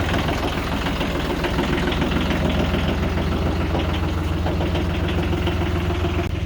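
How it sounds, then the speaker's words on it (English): Farm tractor engine idling steadily with a loud, continuous low rumble and rhythmic knocking throughout, close up and alone without talk. "let's turn this tractor on."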